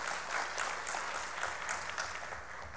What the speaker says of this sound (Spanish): Aplausos para ellos, gracias.